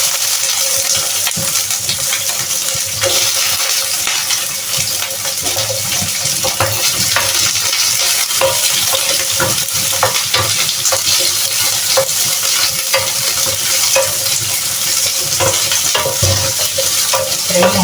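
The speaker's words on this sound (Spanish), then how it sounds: "Vamos a poner los ajos que empiecen a freír. Vamos a poner nuestros pimientos." Garlic and peppers frying hard in hot oil for a sofrito make a loud, dense, continuous sizzle with frequent crackles and spatters, steady throughout and without any talking.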